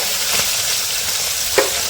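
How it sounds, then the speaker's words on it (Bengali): Fish pieces fry in hot oil, giving a loud, close, continuous sizzle with a couple of brief scraping stirs, and no voices. "মাছগুলো ভালো করে ভেজে নেবে"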